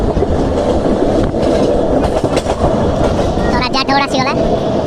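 A train runs on rails with a loud, continuous rumble and rhythmic clatter of wheels, close by, with brief high squeals near the end and a voice faintly underneath.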